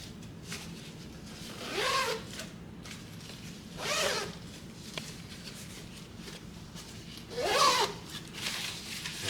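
Zippers on the side compartments of a Tumi Alpha 3 carry-on luggage are pulled three times, each a close, raspy zip lasting about half a second, with no talk.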